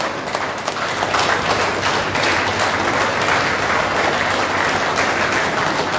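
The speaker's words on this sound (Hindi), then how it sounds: "सभी लोग तालियों से स्वागत करें" A large crowd at an Assam political association meeting claps steadily to welcome a speaker, a dense, even roar of applause that holds at the same loud level for the full six seconds.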